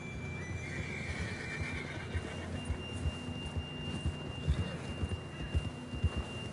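A horse gives a drawn-out whinny in Red Dead Redemption 2, followed by scattered hoof thuds and low rumbles in a quiet open-air setting.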